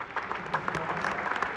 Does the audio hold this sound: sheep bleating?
no